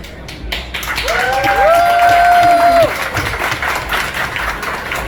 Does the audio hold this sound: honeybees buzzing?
no